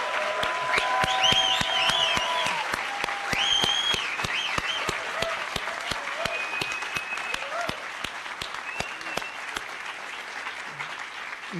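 A crowd at a conference closing ceremony keeps clapping in a sustained, even wash of applause, with whoops and cheers rising over it early on before the clapping settles and fades slightly.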